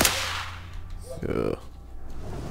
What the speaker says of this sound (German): AK mit Schalldämpfer